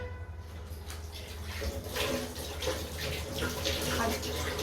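Tap water runs steadily into a basin as hands are washed, a soft continuous splashing that grows slightly louder midway, with a low hum underneath.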